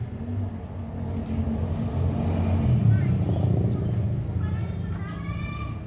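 A car idles and rumbles nearby on a street, a steady low engine drone with faint shuffles and brief high chirps near the end, loud and continuous under intermittent background voices.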